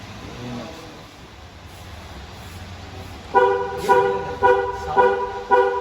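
A 2022 Mahindra XUV 700 sounds its horn in a series of short, loud, close honks, roughly four in quick succession, after a few seconds of low background rumble.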